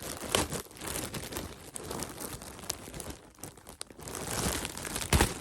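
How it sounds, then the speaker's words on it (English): A plastic bag holding a Spamton Collective Talking Plush is torn open, giving steady close crinkling and crunching with a few sharp rustling bursts throughout. "Open up this bag."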